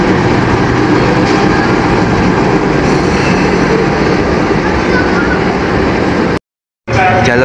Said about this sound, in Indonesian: Jalur 8, lokomotif pulang dinas spesial Nataru.